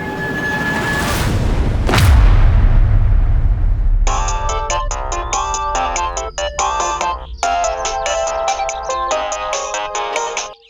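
A mobile phone rings with a melodic electronic ringtone, repeating tonal phrases for several seconds, loud and close, following a dull boom and rumble at the start.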